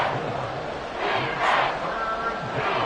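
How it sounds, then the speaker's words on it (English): A stadium crowd roars in the Madden 24 football video game, a dense sustained wall of cheering that swells louder midway, with commentary voices faintly under it. "Work to do here with a crowd at fever pitch."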